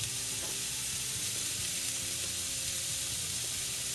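Broccoli, garlic and chili flakes sautéing in a pan, giving a steady, dense sizzle and hiss with faint stirring noises underneath, continuous and close.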